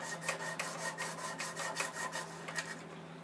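A strip cut from a 240 grit sanding belt rasps back and forth across carved wood, about a dozen steady rubbing strokes in a quick even rhythm, close and fairly quiet over a faint low hum.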